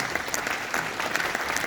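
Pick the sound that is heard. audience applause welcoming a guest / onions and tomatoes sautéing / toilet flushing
audience applause welcoming a guest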